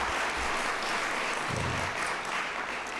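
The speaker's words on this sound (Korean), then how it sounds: "우리 뜨거운 박수로 여러분 격려해 주시기 바랍니다" A church congregation applauds warmly in encouragement, a continuous wash of clapping at moderate distance, steady throughout with a faint murmur beneath.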